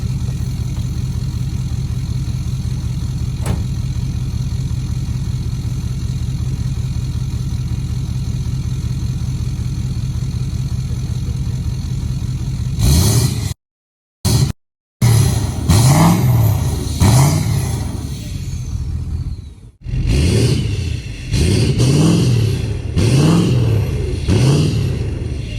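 A Ford F250/F350 truck engine with a deleted exhaust idles with a deep steady rumble, then after brief cutouts revs repeatedly in strong rising and falling bursts, loud and close.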